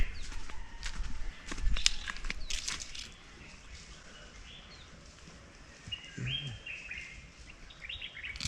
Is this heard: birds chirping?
yes